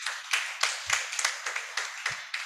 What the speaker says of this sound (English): I think you equally deserve some round of applause.